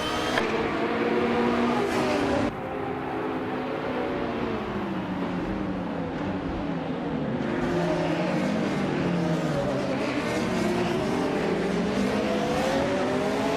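Race cars in a video game roar off at the start, including a 1984 Ferrari 288 GTO Evoluzione, with loud layered engines revving and shifting pitch continuously, close and dense throughout.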